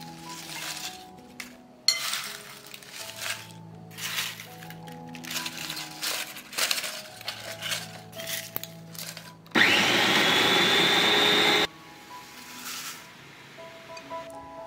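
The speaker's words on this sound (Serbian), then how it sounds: "Ljusku luka usitnit ću u secku" Dry onion skins are whizzed in a small electric food chopper for a couple of seconds, a loud steady whirring burst that stops abruptly, set between quieter clinks and kitchen handling sounds.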